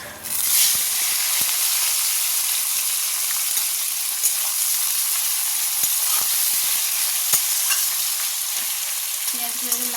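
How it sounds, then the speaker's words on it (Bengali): Steady, loud sizzling of onions frying in hot oil for mutton kosha, a dense crackling hiss with occasional sharper pops and stirring clatter, no voices. "এবার এর মধ্যে পেঁয়াজটা দিয়ে দেবো"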